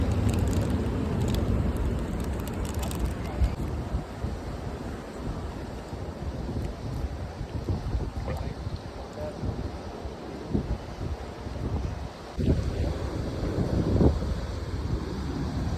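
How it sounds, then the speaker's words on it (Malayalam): Strong wind blows across an outdoor spot, buffeting the microphone with a steady low roar that lasts the whole time, with a few brief gusty swells. "നല്ല കാറ്റടിക്കുന്നതാണ്, ഇതെല്ലാം താഴെ പോകും."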